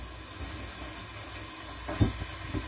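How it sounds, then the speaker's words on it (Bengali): Onions fry in a pot for pulao, browning into crisp beresta, giving a steady low sizzle and hiss with a few soft clunks near the end. "এখন যে পোলাওয়ে পেঁয়াজটা ভাজছি"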